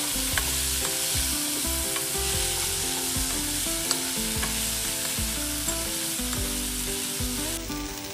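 Broad beans (chikkudukaya) frying in a pan, with a loud continuous sizzle under steady scraping strokes of a spatula stirring them, close and without talk.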